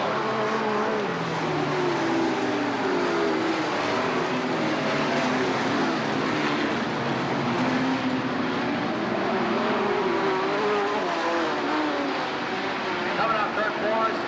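Race cars roaring around a dirt oval at a county fair during a 1991 sportsman feature, a steady dense engine drone throughout with a race announcer talking over it.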